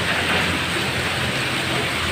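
Rain pours steadily in a Philippine city street setting, a dense, loud, even hiss with no breaks, heard alone.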